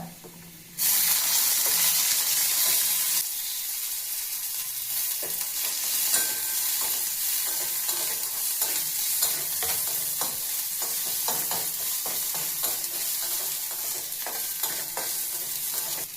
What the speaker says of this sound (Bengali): তেলের মধ্যে দিয়ে দিলাম রসুন কুচি।